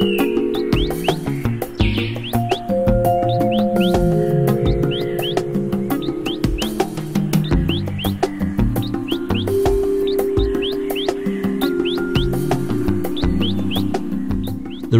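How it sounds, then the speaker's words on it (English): Wild birds call throughout a secondary rainforest in Tabin Wildlife Reserve, Sabah, with dense overlapping chirps, whistles and tonal songs layered over a constant busy chorus. "At least 260 bird species have been spotted in Tabin."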